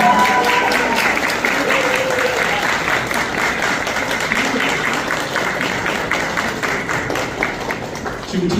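Audience applause at a Korean youth leadership academy launch ceremony, a dense, steady wash of many hands clapping that stays loud and even for the whole stretch, with faint voices mixed underneath.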